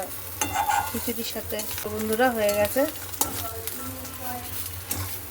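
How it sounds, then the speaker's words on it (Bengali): Steady sizzle of eggs frying crackles in a hot pan while someone talks over it, with occasional utensil scrapes. "ডিম ভাজছি গরম গরম ডিম ভাজা"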